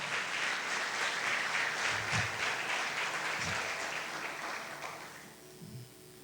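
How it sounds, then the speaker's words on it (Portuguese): A church congregation clapping their hands together, a dense, sustained wash of applause that fades away toward the end, with a few low thumps scattered underneath. "Batam palmas para Ele, chama a presença dEle."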